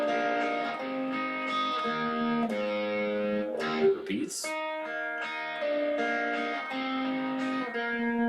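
Guitar plays a riff as a series of picked notes and chords, with a brief fumble partway through and a short spoken word.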